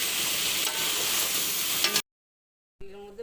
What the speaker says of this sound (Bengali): তেলে ভাজা হচ্ছে।